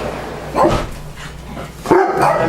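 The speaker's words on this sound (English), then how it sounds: "Just because Zenith barks doesn't mean you have to" A dog barks indoors, two loud yapping barks about a second and a half apart, with a constant low household hum in the background.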